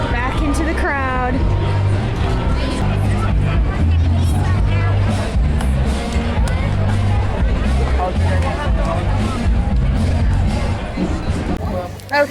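Dense crowd babble fills a busy outdoor shopping and dining area at Disney Springs at night, a continuous loud murmur of many voices with occasional nearby speech rising above it.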